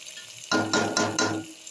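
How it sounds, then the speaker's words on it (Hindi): Cumin seeds hit hot oil in a pan while cooking vegetable pulao, bursting into a sharp, close sizzle with a few pulsing surges as the mix is stirred, lasting about a second before cutting off. "थोड़ा सा इसी में मैं जीरा डाल दूंगी। जीरा डालने के बाद इसको थोड़ा चला दें।"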